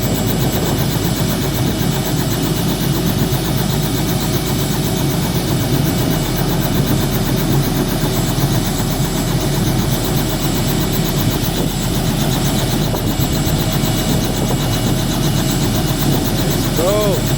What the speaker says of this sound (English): let's just watch the helicopter as it takes off